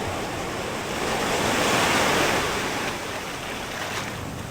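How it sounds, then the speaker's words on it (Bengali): Big sea waves roll in and break one after another on Dublagadi beach, making a loud, continuous roaring wash of surf close by. A gentle swell peaks midway through, with wind noise mixed in. "একের পর এক ঢেউ আসছে, এরকম বড় বড় ঢেউ।"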